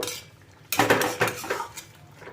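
A metal spoon clatters and scrapes against a pot while squash curry with ghee is stirred and the pot covered, a few loud clinks and knocks up close with no voices.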